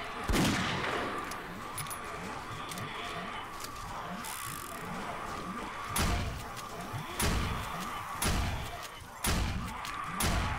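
Gunfire in the video game 7 Days to Die, fired at crawling zombies with broken legs: a series of sharp, loud shots at irregular intervals over a steady low ambient rumble, with no talking.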